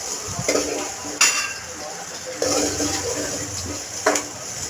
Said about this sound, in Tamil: வெங்காயம் போட்டதுக்கப்புறம் வெங்காயத்தை நல்லா வதக்கிட்டு கண்ணாடி பதம் வர அளவுக்கு